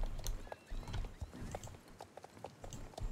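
A horse's hooves clip-clop at a quick walking rhythm in the Star Stable Online video game, close and fairly quiet, with a brief whinny mixed in.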